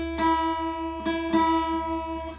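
A few plucked guitar strings, slightly out of tune with each other, ring out and sustain with a wavering beat between them. Two or three close, solo plucks decay slowly in a quiet room.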